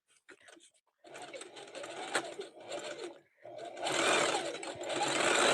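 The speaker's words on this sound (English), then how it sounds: "So I start the new roll by zigzagging it together, butted up against the other one." A sewing machine zigzag stitches jelly roll fabric strips together for a rug, running in several bursts of rapid whirring with short pauses, the last burst longest and loudest, close by.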